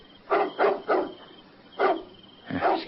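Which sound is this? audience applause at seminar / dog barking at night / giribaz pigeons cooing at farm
dog barking at night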